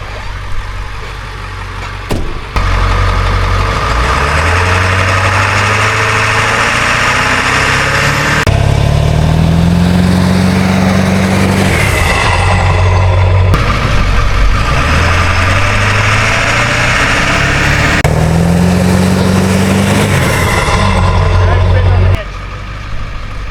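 A vehicle's engine runs loudly nearby as it is driven out, revving up and easing off repeatedly in long surging waves over a constant low rumble.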